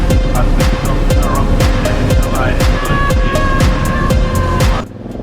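A 2008 Aprilia Shiver 750 motorcycle pulls in second gear from about 2000 rpm, its engine loud and close with a steady rhythmic throb and rising whine before dropping off near the end.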